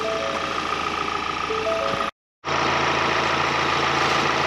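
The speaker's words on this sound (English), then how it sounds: "So with the engine running" A car engine idles steadily just after being started, following work on a diesel heater fuel tap into the main fuel tank; a steady close rumble with a brief dropout midway.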